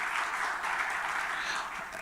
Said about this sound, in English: Acknowledge him, round of applause.